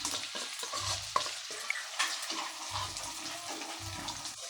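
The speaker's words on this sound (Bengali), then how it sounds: "তো এখন আমি এই পেস্টটা দিয়ে দিচ্ছি।" Ginger, garlic and green chili paste goes into a hot pan for chili chicken, giving a soft sizzle with stirring scrapes and a few low thuds, fairly quiet.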